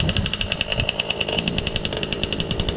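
The gas engine of a Losi 5B RC car idles close by with a rapid, uneven pulsing putter, loud and steady for the whole stretch without voices.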